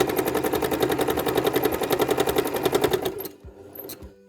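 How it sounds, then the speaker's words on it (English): A sewing machine stitching free motion quilting with a free motion foot, its rapid even needle rattle running steadily for about three seconds and then stopping, leaving a couple of soft clicks. "Now let's see if I can stitch backwards in a straight line with a free motion foot."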